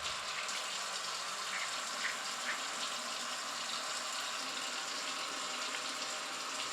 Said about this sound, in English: wash your hands for 20 seconds using soap and water